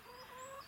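A hen that cannot use her legs, one of a flock of about sixty, gives a single short, soft cluck close by, alone without talk.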